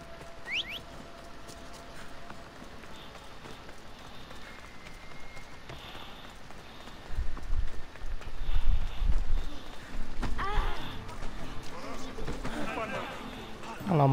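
Horse galloping in Assassin's Creed Odyssey, a quiet rhythmic patter of hooves that grows louder and heavier partway through, with faint game sounds around it.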